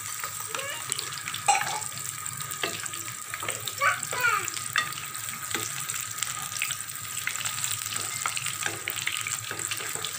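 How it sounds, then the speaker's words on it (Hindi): Palak pakora, spinach fritters, frying in oil over low heat, a constant crackling sizzle close by with occasional bubbling pops and a few faint utensil scrapes. "अब हम इसको 5 मिनट पर हल्के आंच पर इसी तरह दूसरी साइड से फ्राई करेंगे।"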